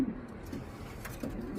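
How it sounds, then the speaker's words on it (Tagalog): Racing pigeons coo softly in a loft, low throaty murmurs repeating over a steady background hum, with no voices. "Gandang ibon."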